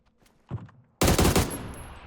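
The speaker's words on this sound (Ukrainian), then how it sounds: "Десь там от стріляє." Gunfire in the PUBG video game: a faint distant pop, then a loud, close, sharp rapid burst that rings out and decays, with no talking.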